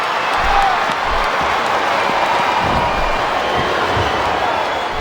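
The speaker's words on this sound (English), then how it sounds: "I think these superstars are getting some feedback from the crowd, JR." A crowd cheers in the WWE SmackDown vs Raw 2007 wrestling video game, a loud, constant roar beneath the commentators' talk.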